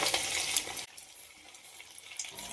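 Leftover-rice rolls drop into hot oil with a loud, hissing sizzle that falls after a moment to a quieter, steady frying crackle nearby.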